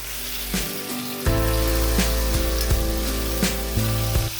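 Potato and eggplant pieces sauté in hot oil in a pan, a constant close sizzle broken by a few sharp clinks of a spatula against the metal.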